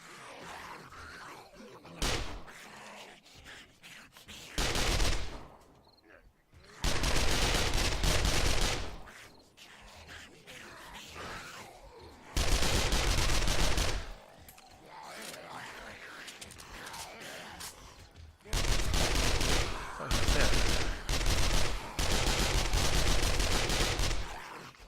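Gunfire from the zombie survival game 7 Days to Die, loud dense bursts of rapid shots in several long stretches separated by quieter gaps, with a voice talking during the lulls.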